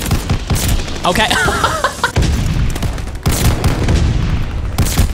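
Shotgun blasts from Call of Duty Vanguard gameplay go off in a dense run of loud, close booms, mixed with game effects and a brief spoken word.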